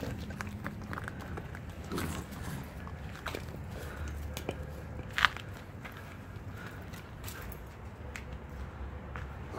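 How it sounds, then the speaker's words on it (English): A puppy, a Lycan shepherd or bulldogge, chews and rips at a piece of raw fish, giving close, irregular crunching and biting clicks with one sharper snap midway over a steady low background. "Ripped a piece off, he's chewing on."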